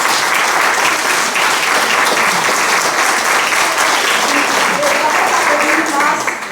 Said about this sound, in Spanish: Les vamos a pedir que se levanten y brindemos un minuto de aplausos.